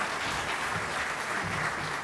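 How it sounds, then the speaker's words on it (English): Audience applause at a Caribbean Broadcasting Union hall of fame induction ceremony, a soft, even wash of clapping heard from a distance and continuing steadily throughout. "A round of applause for Ms."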